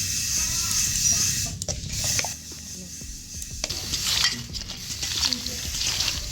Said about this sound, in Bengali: মাছের সাথে খুব ভালো করে মাখিয়ে নেব